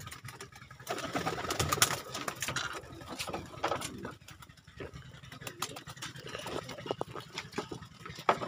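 Blue bar breeder pigeon cooing in a loft, low soft rumbling coos repeating through the clip amid other birds, with faint mechanical noises and scattered clicks.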